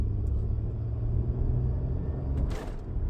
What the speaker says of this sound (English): It's banging gears. It wasn't doing that before.